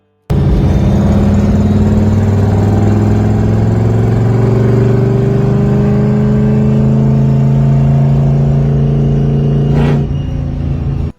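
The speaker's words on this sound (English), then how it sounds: "This 62 Falcon is equipped with a 302 roller motor with roller rockers" A 1962 Ford Falcon gasser's 302 roller V8 with roller rockers idles loud and close at a steady rumble, with a short blip near the end before cutting off.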